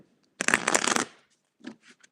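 Tarot cards shuffled by hand in one quick riffle burst followed by a few softer card taps, close and clear with no talking.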